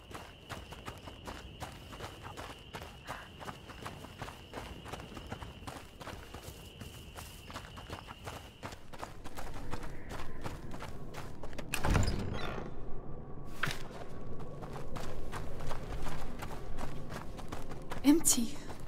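Steady hoof clip-clops from a horse walking in A Plague Tale: Innocence, with a faint whistle-like tone early on, a thud midway and a louder shuffle afterward.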